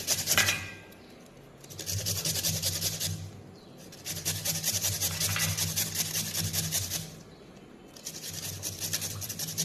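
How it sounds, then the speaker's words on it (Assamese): A potato is grated by hand, giving repeated bursts of dry, scraping rasps of about two seconds each, separated by short pauses, close and fairly loud with no talking. "আলুখিনি পূৰা লুকনিত মাৰি ল'ব এনেকৈ"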